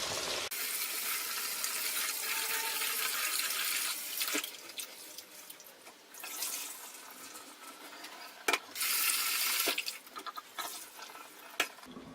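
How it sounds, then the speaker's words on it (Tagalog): Glutinous rice is washed in water, with a continuous splashing and swishing rush broken by brief pauses and sharp clicks, near and fairly quiet. "hugasan muna natin yung glutinous rice"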